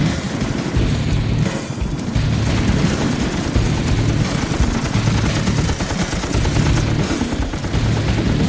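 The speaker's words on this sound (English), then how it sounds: "Bravo, friendly fire, taking friendly fire" Sustained bursts of automatic gunfire in a battlefield friendly-fire incident, loud rapid volleys of shots and booms overlapping continuously with no speech.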